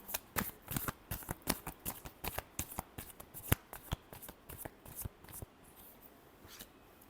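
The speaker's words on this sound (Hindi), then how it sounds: "Last shuffle." Tarot cards are shuffled by hand, a close series of sharp riffling flicks in quick succession that thin out and stop near the end.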